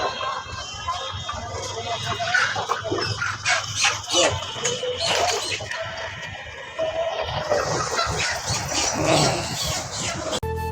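Chickens cluck and squawk at a busy market stall while being weighed, with voices talking nearby over the birds' intermittent calls.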